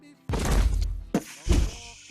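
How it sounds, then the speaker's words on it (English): A body thuds and thumps heavily along the ground in a Fallout tabletop role-play sound effect, with two loud, broad impacts and a smaller knock between them. "That's what it sounds like as the body thumps along, you know, the ground near there."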